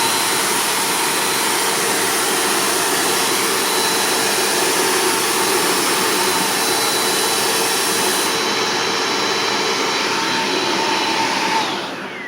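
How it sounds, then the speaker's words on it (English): Bissell Powerforce Compact vacuum cleaner with a 7 amp motor running unloaded, a loud steady whine and roar throughout with a slight change in tone near the end. "Looks like the base motor is at least in the low 90s"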